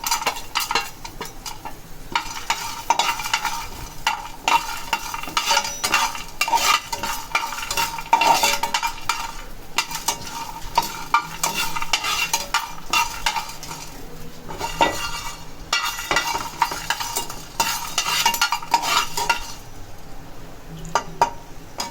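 Roasted gram and peanuts frying in a pan and being stirred, with steady scraping and clinking of a spatula against metal over a continuous light sizzle, close and fairly loud throughout, no voices.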